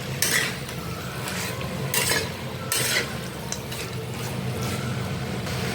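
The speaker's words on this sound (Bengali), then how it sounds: "এরপর ভাজা কুমড়ো এবং আলুর টুকরোগুলিকে মাছের সঙ্গে ভালোভাবে মাখিয়ে নিতে হবে" Fried pumpkin and potato pieces tossed with fish heads in a pan for a sweet pumpkin curry, heard as soft, repeated scraping strokes and a low background sizzle, fairly faint and close, with no voices.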